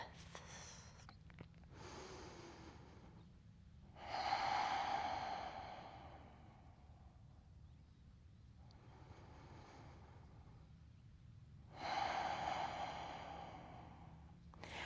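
Slow, deep yoga breaths during a gentle beginner stretch, two long exhales roughly eight seconds apart, soft and airy with quiet gaps between.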